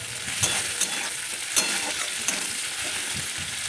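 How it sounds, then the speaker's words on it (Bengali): Food frying lightly in prawn oil in a pan, a continuous bright sizzle with occasional sharp clinks of a utensil stirring against the pan, close and steady with no talking. "প্রথমে একবার ভেজে নিচ্ছি হালকা করে চিংড়ি মাছের তেলটাতে"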